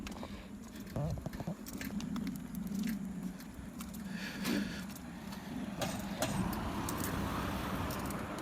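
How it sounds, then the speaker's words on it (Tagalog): Cars pass along a road at night, their low engine and tyre rumble rising and fading at moderate distance, with faint scattered patter and clicks around them. "Maraming sasakyan na dumadaan."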